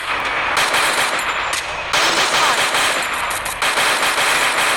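Rapid automatic gunfire in the mobile battle game Free Fire, loud and continuous in dense bursts with brief breaks between them and no talking.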